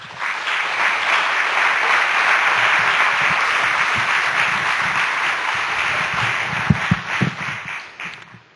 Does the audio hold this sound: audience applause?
yes